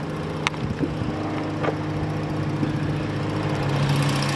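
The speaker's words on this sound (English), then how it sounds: "here is the engine. Nice and quiet, very smooth." A 2017 Ford Explorer police interceptor with a 3.7 engine idles quietly and smoothly, a steady low hum close by with a few brief clicks and taps over it.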